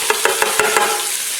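Chopped jalapeños, onions and garlic frying in rendered bacon fat, giving a bright, steady sizzle with a few quick rhythmic stirring pulses early on, close by.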